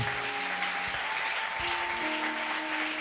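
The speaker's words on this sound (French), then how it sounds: "Acclame le Seigneur Jésus-Christ" A church congregation applauds during a worship testimony, with dense, steady clapping throughout that sits over faint sustained background tones.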